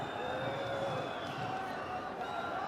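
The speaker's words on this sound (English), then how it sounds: "And the crowd are loving this, aren't they?" A cricket stadium crowd at a UAE versus Afghanistan T20 international roars and cheers steadily in a dense, continuous wash of noise, with a few whistles rising above it throughout.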